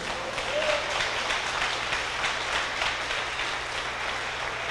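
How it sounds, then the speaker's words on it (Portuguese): Steady, dense applause from a congregation during a church sermon, a continuous wash of clapping held at even loudness throughout with no voices on top. "Se eu fosse você, eu dava logo uma salva de palmas para Jesus."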